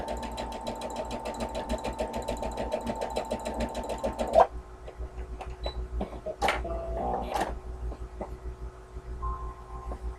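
Sewing machine stitching satin fabric, a steady fast mechanical whir with rapid needle rhythm for about four seconds, then stopping, followed by quieter handling clicks and rustles.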